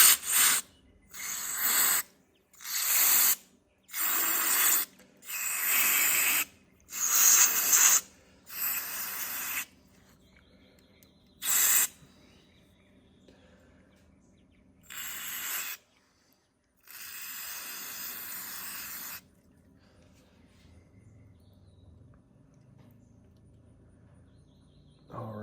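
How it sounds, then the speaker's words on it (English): Repeated short hissing bursts of carb cleaner sprayed into a Honda Foretrax 250 carburetor, about a dozen in quick succession, then a few longer sprays separated by quiet pauses. "I'm gonna start spraying some carb cleaner down in all these holes."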